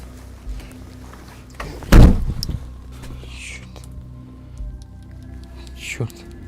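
A single heavy thump or knock sounds in a quiet, dark room, followed by fainter taps and rustles later on.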